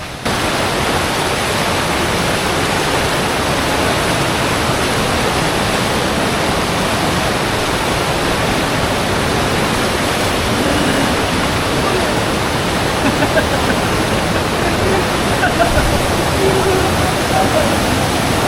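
Steady, dense roar of a nearby waterfall, constant and loud throughout with no breaks.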